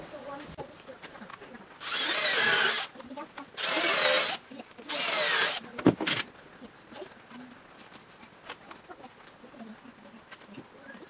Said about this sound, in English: pre-drilling screw.